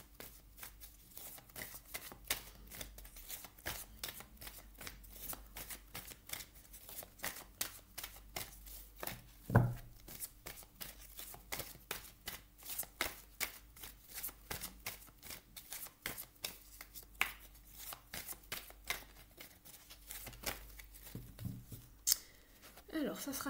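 Tarot cards are shuffled by hand continuously, a rapid rhythmic riffling and flicking of cards close up, with faint quiet background at times.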